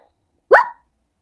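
A single short, loud dog bark sounds close by at a home, alone, with no other noise.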